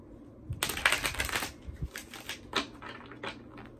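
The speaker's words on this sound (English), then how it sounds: "One more shuffle. These cards are getting so bent." A worn, bent deck of tarot cards being shuffled by hand, a close rustling riffle followed by several shorter flicking bursts with no voice.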